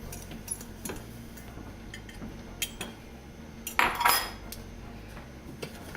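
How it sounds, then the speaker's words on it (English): Sugar and cocoa mixture being stirred in a pan for no-bake chocolate peanut butter cookies, with quiet, scattered clinks and scrapes of a utensil against the pan and one louder, longer scrape partway through. "Just trying to keep everything broken up so you can see it."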